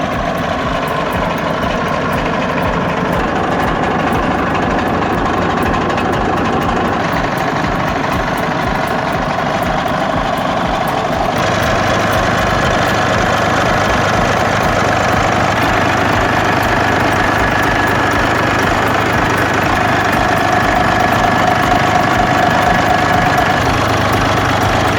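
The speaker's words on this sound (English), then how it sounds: "SF65CT is a high-power engine built for tough marine and industrial use" An SF65CT high-power marine and industrial engine, rated up to 6,500 kilowatts, runs in a loud, continuous, smooth drone with a deep low rumble and steady mechanical hum throughout.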